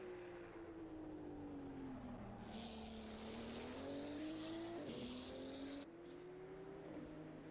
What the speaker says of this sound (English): Mr. Scott and the Porsche GT2